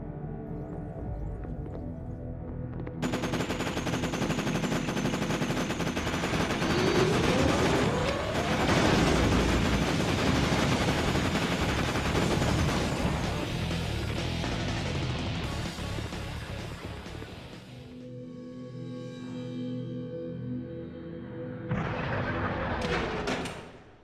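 Perimeter defense turret guns in Terminator: Dawn of Fate on PS2 fire in sustained, dense volleys of heavy gunfire with thuds and explosions under game music, loud and continuous for most of the stretch before easing near the end.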